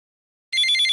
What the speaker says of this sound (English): Nasser's phone rings.